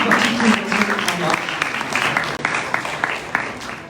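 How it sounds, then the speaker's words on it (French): A seated audience at a youth political debate at the Nîmes university claps for a young party representative joining the panel, steady dense applause with a voice talking over it in the first second. "On peut les applaudir très fort."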